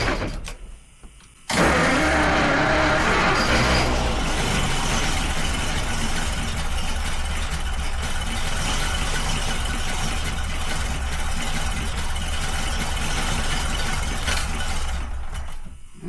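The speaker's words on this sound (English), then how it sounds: "Come on, rev up. Rev up. I know she got fuel." A car engine turns over and runs roughly while the driver tries to get it to rev, a loud, steady mechanical drone that starts abruptly after a brief quiet moment and holds with little rise in pitch.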